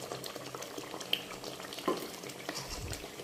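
Cubed paneer gently stirred into a frying butter masala in a pan, giving a soft, continuous sizzle and bubbling with occasional light clinks of the spoon, fairly quiet and close.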